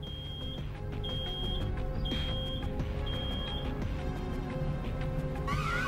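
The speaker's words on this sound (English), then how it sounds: "Oh no, something's beeping." Repeated electronic alarm beeps in the Road 96 video game, four evenly spaced long tones over a loud, steady background hum, with no speech.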